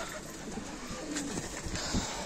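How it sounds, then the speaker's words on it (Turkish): Hungry Adana pigeons give low cooing calls close by in a loft, the soft coos rising out of a dense, noisy background. "Şu an kuşlarım hepsi aç."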